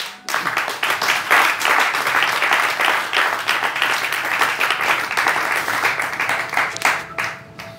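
A church congregation applauds and cheers in a sustained, dense wave of clapping that stays loud throughout before easing slightly at the end.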